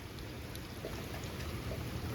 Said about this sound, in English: it's still raining hard and everything